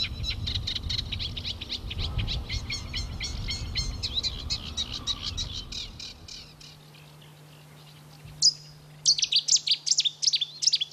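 A reed warbler sings a long run of harsh, chattering phrases over low rumble, pauses briefly, then resumes with sharper, clearer repeated notes.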